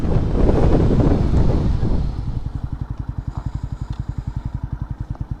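A 200cc motorcycle engine in second gear, first buried in loud wind rush, then settling into a low, evenly pulsing chug that rises slightly in pace, heard close up.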